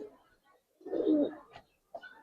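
Giribaz high-flyer pigeons coo nearby, a soft murmur swelling into one louder throaty coo, then short quieter calls.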